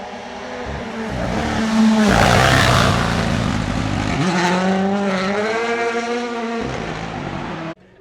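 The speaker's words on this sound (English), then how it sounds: "This car coming up, I'm pretty sure it's one of the rally cars coming in." A rally car at a supercar festival drives past close by, its engine rising to a loud, steady roar and then shifting pitch as it passes, ending abruptly.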